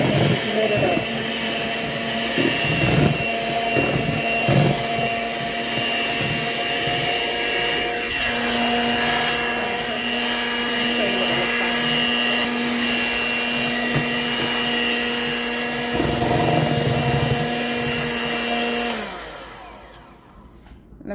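A stand or hand electric mixer whirs steadily through 7 Up pound cake batter flavored with vanilla and lemon extract, whipping it until fluffy, with a loud continuous motor drone that shifts pitch partway through before cutting off near the end.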